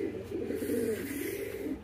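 A single pigeon coos softly and close by, a low throaty murmur lasting about two seconds with no talking.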